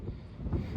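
Strong wind on a fishing trip under a wind advisory, buffeting the microphone in low, uneven rumbling gusts that swell toward the end, with no voices.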